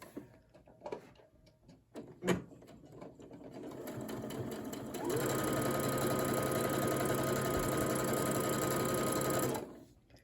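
A sewing machine stitches a 1/4 inch seam joining double fold binding strips, running steadily and loudly for about five seconds after a few quiet handling clicks and a sharp knock.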